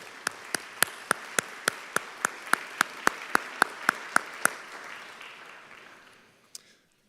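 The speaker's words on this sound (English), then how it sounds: "let's give them a round of applause for their work" A crowd at an annual meeting applauds while one nearby person claps loudly in a steady, even rhythm; the applause fades out after several seconds.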